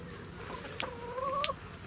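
Chickens at an allotment, a small flock of hens in a run, clucking and giving a drawn-out rising call close by over outdoor background noise.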